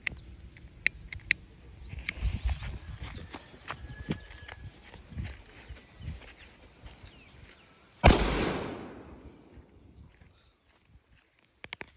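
Three Arco Thunder firecrackers packed into pastillas go off as one loud, sharp blast with a decaying rumble, heard from a distance after several seconds of quiet outdoor shuffling and faint footsteps.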